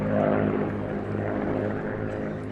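A B-17 Flying Fortress bomber coming in to land, its piston propeller engines giving a steady, loud droning hum with layered low harmonics, continuous and close with no voices.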